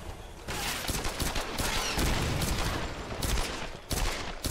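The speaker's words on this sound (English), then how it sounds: "Well, he's shooting at me." Dense, rapid video-game gunfire in Tomb Raider Definitive Edition crackles in continuous bursts, loud and close, with short breaks between volleys and no talking.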